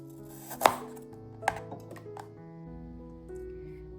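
Apples being cut into pieces with a knife, giving a couple of sharp, close cutting clicks against a faint background hum.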